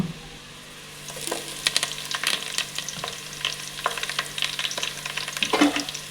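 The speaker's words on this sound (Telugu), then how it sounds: "సో దీంట్లో అయితే మనం ఇప్పుడు పచ్చిమిరపకాయలు అయితే యాడ్ చేసేసుకుందాం." Green chillies fry in a pan for chicken biryani, crackling and sizzling in hot oil with scattered pops and stirring scrapes, close and steady after a quiet start.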